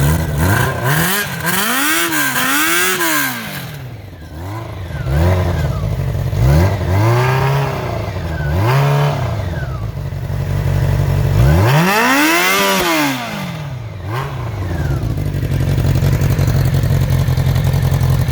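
A 1984 Honda CB700S Nighthawk motorcycle engine revs up and down repeatedly in a garage, close by and loud, with a rough clattering idle between the rising and falling bursts.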